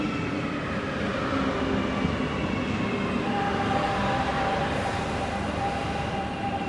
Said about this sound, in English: Oh yeah, test train.